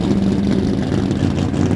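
Big-cam street car engine idling at a car show in Tempe, Sydney, a steady, loud, lumpy low rumble held close throughout with no speech.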